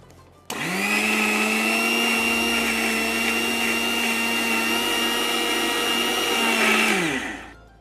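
An electric grinder whirs steadily for about seven seconds, blending ground powder with oil into a paste. The motor starts abruptly, holds a loud, even drone, then winds down at the end, with no talking.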